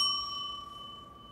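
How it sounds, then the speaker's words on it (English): A single bright bell ding from a Sony Ericsson X10 phone, one clear metallic tone decaying over about a second, close and alone. "Hit your bell."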